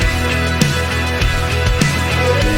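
A full music mix plays back from a DAW, dense and steady with punchy beats roughly every half second, loud and continuous with no talking.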